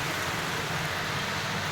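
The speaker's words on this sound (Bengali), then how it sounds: "আর বৃষ্টি দেখো, এদিকে প্রচুর বৃষ্টি" Heavy rain pours down in a steady, dense hiss, close and continuous throughout the short stretch, with no voices.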